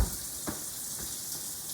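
A kitchen tap runs at a steady, soft hiss while hands are washed under the stream, with a few faint splashes and no talking.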